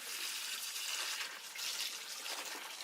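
Water pours and splashes out of a flooded Subaru engine's oil pan in a steady hissing stream, fairly faint, with no voices.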